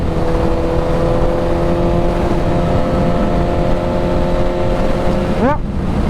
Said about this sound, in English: we can sit there and stare at those bikes cruising down the highway all day